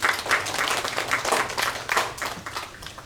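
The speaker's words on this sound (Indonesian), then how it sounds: "Tepuk tangan buat kita semua." A small crowd at a village climate-programme (Proklim) monitoring visit in Banyunganti Kidul, Kaliagung, applauds in a lively burst of clapping that rises and falls in uneven waves for about three seconds.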